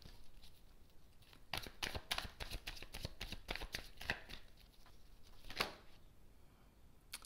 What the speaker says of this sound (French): Allez, je prends 3 cartes pour vous.